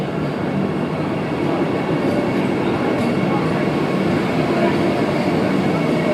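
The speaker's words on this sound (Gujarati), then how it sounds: "જોઈ રહ્યા છો દોસ્તો આ વંદે ભારત એક્સપ્રેસ ગાડી છે" A Vande Bharat Express overtakes on the adjacent line during an Intercity SF Express run from Jamnagar to Vadodara, giving a loud, steady broadband rail roar and rumble throughout with faint clatter.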